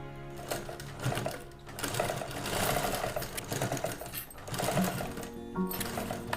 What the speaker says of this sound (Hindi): अब इसे हम इस तरह पूरा सिल लेंगे।